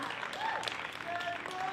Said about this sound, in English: I want to give you guys both a big round of applause